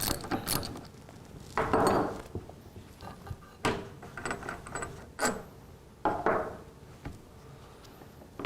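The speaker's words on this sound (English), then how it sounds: "I'm going to take my 10 millimeter metric hex bit socket and remove that bolt on the end of the tool" Metal socket and ratchet clicks, scrapes and clunks of a 10 mm hex bit socket loosening a bolt on an Enerpac ECCE-series chain cutter, several separate mechanical bursts with short pauses, close and alone.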